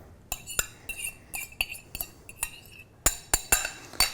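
A spoon or whisk beats a mixture in a bowl for Italian supplì, giving a run of sharp clinks and taps, close and fairly loud, with a quick cluster of strikes near the end.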